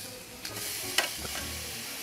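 Pork loin portions sear on a grill, giving a soft, steady sizzle with a couple of faint clicks, heard at low volume.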